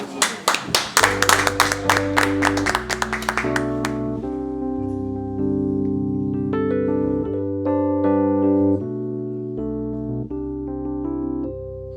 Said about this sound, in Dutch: Applaus voor Zuma.